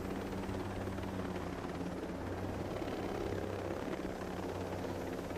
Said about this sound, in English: Let's give them the appearance that we're just a regular old patrol helicopter